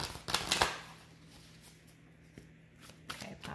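A tarot card deck is shuffled nearby in a quiet room: a few quick riffling bursts at the start, then a soft pause, and another light riffle toward the end.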